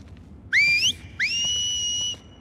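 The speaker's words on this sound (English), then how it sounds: "Hey, teach me some of that whistling." Two clear, rising whistles in The Last of Us Part 2 video game, a short upward note followed by a longer held tone, close and bright over a quiet background.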